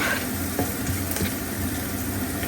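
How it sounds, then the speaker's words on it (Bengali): Sliced onion fries in hot oil with turmeric and salt, a steady close sizzle broken by a few soft scraping stirs, with no voices. "আমি এর ভিতরে শুধু পেঁয়াজ দিয়েছি, হলুদ, লবণ, একটু ভেজে নিই।"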